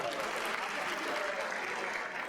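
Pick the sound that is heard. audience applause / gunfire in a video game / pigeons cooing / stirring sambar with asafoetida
audience applause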